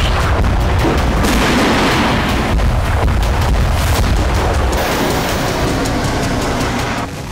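Explosions from a bombardment in Ukraine, a dense loud continuous barrage of booming blasts and crackling bursts with no talk, easing slightly near the end.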